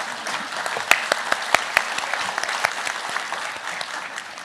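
Audience applause fills a nursing pinning ceremony hall, with dense steady clapping and a few sharper nearby claps standing out, sustained throughout.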